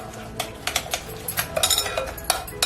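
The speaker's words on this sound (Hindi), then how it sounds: "इसे अच्छी तरह से मिक्स कर लेंगे" A spoon stirs cumin and spices in a bowl, giving quick, light clinks and scrapes in an uneven rhythm, close and fairly quiet.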